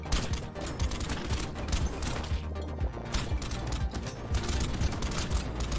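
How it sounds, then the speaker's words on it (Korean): In the video game Brotato, plastic explosives and dynamite go off in a dense, continuous barrage of crackling, popping blasts, heard alone as a loud, unbroken wall of noise. "다이너마이트 플라스틱 폭발물"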